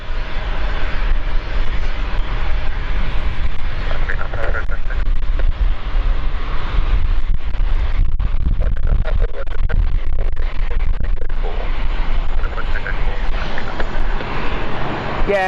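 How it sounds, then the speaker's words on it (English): A Loganair ATR 42 turboprop coming in to land, its engine drone and roar loud and continuous throughout under strong wind noise on the microphone. "I'm going to pan over to the Logan Air coming in"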